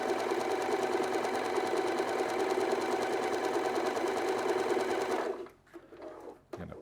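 An Alfa Practik 9 sewing machine runs a stretch stitch at a steady fast pace, its rapid needle clatter loud and close for about five seconds before stopping, followed by a few quieter handling clicks.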